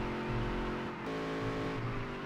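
A car engine in the Dirt to Daytona racing video game runs with a steady, loud tone throughout, its pitch shifting slightly as it revs, with no talking over it.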